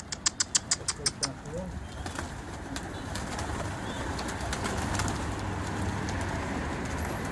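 Pigeons gathering to feed on a rooftop, with a quick run of sharp flapping or clapping bursts at the start followed by faint bird sounds and rustling in steady outdoor noise.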